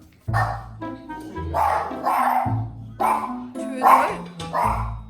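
A puppy barks about six times in close, loud bursts with brief pauses between them, each bark sharp with some yipping whine.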